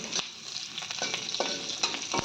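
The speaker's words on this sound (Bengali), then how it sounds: "আমি এইগুলো কাঁচা লঙ্কা ভেজে রাখছি" Green chilies fry in a pan with a crackling sizzle, punctuated by repeated spatula stirs and scrapes, close and steady.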